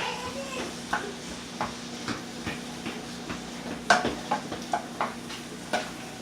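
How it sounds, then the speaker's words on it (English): Seafood sautéing in a pan for fried seafood rice: a low, steady sizzle with scattered spatula scrapes and clacks against the pan, plus a faint hum underneath. "I'm going to go ahead and let this saute."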